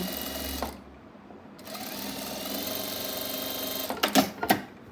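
Sewing machine stitching fabric for a telekung prayer garment, running in a steady mechanical whir that stops briefly, then resumes for a longer stretch and ends with a few sharp clunks, close and clear with no talking.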